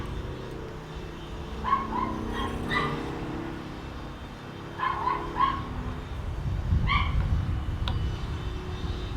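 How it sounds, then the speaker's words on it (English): A dog next door barks in three short bursts of two or three yips each, heard at a middle distance over a low, steady outdoor rumble. "My dog goes next door and then starts barking."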